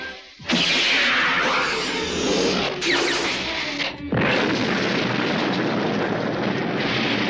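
A sudden heavy blast of a torpedo hitting a platform erupts after a brief quiet, followed by a long roaring, rushing rumble with another surge midway, loud and close.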